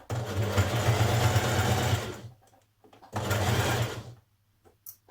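Sewing machine running a zigzag stitch on stretch knit fabric for a Frankie top, loud and close, in two steady bursts of about two seconds each separated by a short pause.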